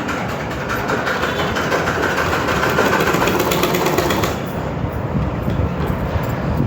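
A sewing machine runs steadily while stitching blouse fabric, its motor giving a continuous, close, even whir with no pauses and no speech.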